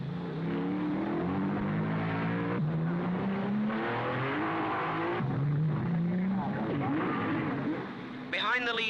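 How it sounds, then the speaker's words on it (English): Racing cars at the 1955 Monaco Formula 1 Grand Prix, engines roaring steadily with rising and falling pitch as they pass, heard under continuous commentary. "Castellotti has passed Moss into second place."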